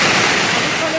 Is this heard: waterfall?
yes